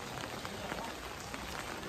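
Heavy rain falls at the Bagnath temple in Bageshwar, making a dense, continuous hiss and patter close by, steady throughout with no break.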